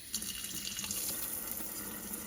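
A kitchen sink faucet running in a spray mode over rice being rinsed, a steady close hiss of water with small splashes and drips layered on top.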